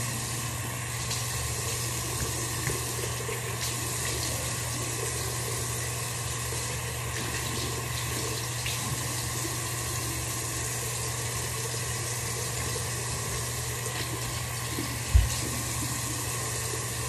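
Water runs steadily from a bathroom tap as someone washes their face, a constant even rush with a faint low hum beneath it and one brief knock near the end; no one speaks.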